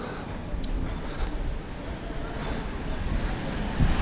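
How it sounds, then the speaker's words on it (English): Steady wind rumbles and buffets against the microphone while cycling in Nepal, a constant low roar with no breaks. "Oh, it's windy now."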